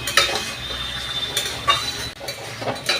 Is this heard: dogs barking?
no